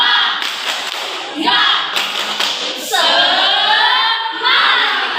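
A group standing in a classroom performs a "tepuk semangat" clapping chant during an ice-breaking activity, with bursts of claps and shouted voices in rhythmic phrases, loud and close.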